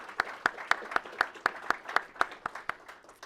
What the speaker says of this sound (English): Please give Mayor Greenberg a special round of applause